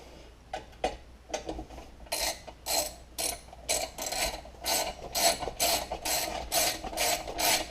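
A ratchet tightens the bolts on a Briggs and Stratton engine's starter cover, giving short bursts of rapid metallic clicking. The bursts come back to back, close up and clear, with no voices.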